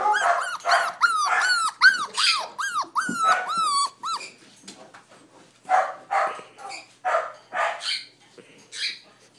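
A small dog yaps in a quick run of high, arching barks, then shifts to scattered lower growls and yips, close by.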